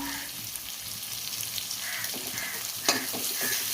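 Chopped onion, green chilies and garlic fry with a soft steady sizzle, close but fairly quiet, with a few light clinks and one brief scrape near the end.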